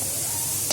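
Sausages frying in a pan give off a steady close-up sizzle, a brief continuous hiss under half a second long.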